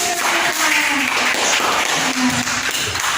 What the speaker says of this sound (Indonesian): tepuk tangan dulu untuk teman-teman saya.